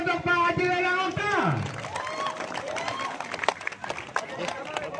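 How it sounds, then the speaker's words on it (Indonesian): A crowd applauds a guest at a volleyball championship event in Pangandaran, with scattered claps and cheers blending with a voice and tonal sounds at first, then loose clapping and chatter continue. "tepuk tangan sekali lagi untuk Pak Haji Dadang Oka"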